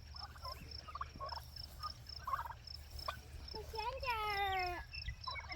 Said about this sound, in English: Okay, so turkeys are out here.